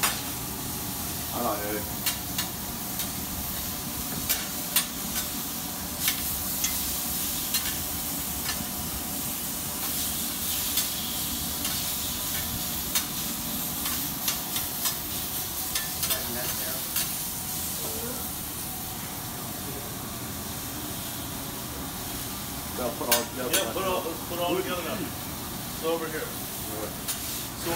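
Meat browns on a hot tavern griddle with a constant soft sizzle and hiss, broken by scraping and clattering utensil sounds while people talk over it.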